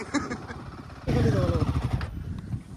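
An adventure motorcycle engine revs up sharply after a second of quieter running, a close, throaty rumble with rising and falling pitch, over sandy off-road ground in Assam, with voices nearby.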